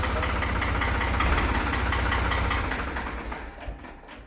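A New Holland tractor diesel engine idles with a steady, close, throbbing rumble, then winds down and fades out as it is shut off near the end.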